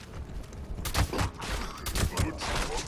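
Repeated blasts of a combat shotgun in the video game Fallout 76, several loud booming shots spaced roughly a second apart with broadband crack and low thump, over a steady game background.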